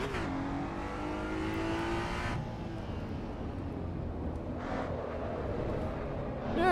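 Simulated car engine in Assetto Corsa EVO, an early-access racing game, revving hard and steady with a sharp drop partway through, then climbing again, loud and alone without talk.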